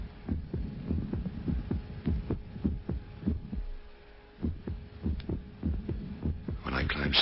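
A radio-drama heartbeat sound effect thumps in a steady rhythm over a faint hum, with a noticeable skipped beat partway through, heard on its own.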